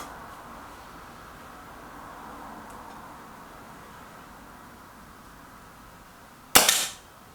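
A single sharp air rifle shot from a Kral NP02 or Reximex Myth cracks loudly near the end, following a long stretch of quiet outdoor background hiss on a target range.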